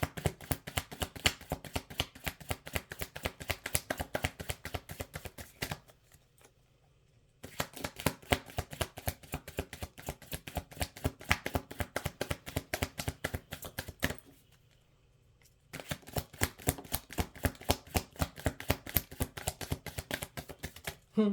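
Rapid riffle-shuffling of a card deck in repeated bursts, crisp and close, with two brief pauses of near silence between runs.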